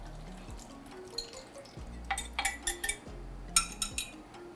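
A spoon stirs scone dough with cheese in a mixing bowl, clinking lightly against the bowl in a series of quiet taps over a low background hum.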